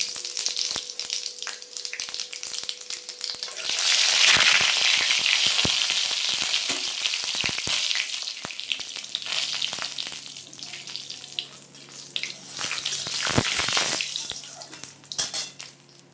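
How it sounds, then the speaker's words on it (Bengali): Panch phoron spices frying in white oil in a heated wok, a steady bright sizzle running throughout, growing louder midway with occasional stirring clinks, no voices. "পাঁচফোড়নটা একটু ভাজা ভাজা হলো"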